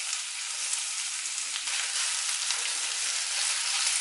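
Chopped gooseberries and green chillies fry in a pan for pickle, giving a steady close hissing sizzle that runs throughout with a faint stir click, no voices.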